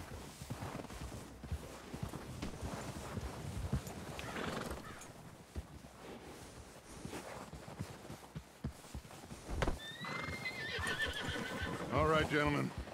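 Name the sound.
horse neighing in video game Red Dead Redemption 2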